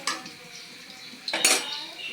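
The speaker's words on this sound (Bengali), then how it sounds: "আমি এখন মাছগুলো উঠিয়ে নেব পাবদা মাছগুলো" Fried pabda fish being lifted out of a pan, a couple of sharp metallic clinks of utensil against cookware over a low sizzle, close and brief.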